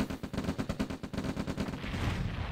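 Rapid bursts of rifle fire from infantry in the real-time strategy game OpenRA Red Alert as they destroy an oil derrick, crackling shots repeating quickly and loudly before giving way to a rumbling collapse.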